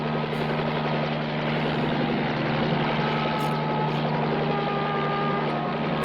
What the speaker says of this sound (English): Why are they in a helicopter?